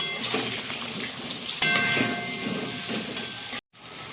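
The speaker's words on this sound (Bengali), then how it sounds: "সুন্দর করে ফ্রাই করে নেবো 2 মিনিট ধরে।" Potatoes and pointed gourd frying in hot oil with turmeric and salt give a steady, close, broadband sizzle and crackle that runs unbroken for about four seconds, with a short gap near the end and no voices.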